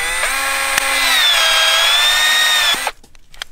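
A new cutter slicing through 1¼-inch conduit gives a loud, steady high-pitched whine that holds for nearly three seconds and then cuts off abruptly, leaving quiet afterward.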